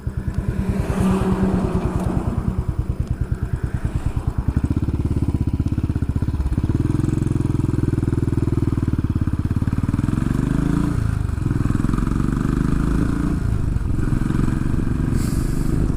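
A Royal Enfield 500 Classic Chrome single-cylinder motorcycle is ridden on a road on the Isle of Mull, its loud, close engine thumping in a steady pulse and rising after a few seconds into a sustained, level drone with slight shifts in pitch.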